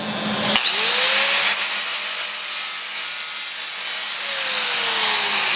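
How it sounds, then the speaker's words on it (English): A grinding pad fitted with 40-grit abrasive sands a metal railing, a loud continuous harsh rasping whir that spins up after a click and holds steady with slight pitch shifts, with no talking. "I'm just using my grinding pad with some 40 grit on it"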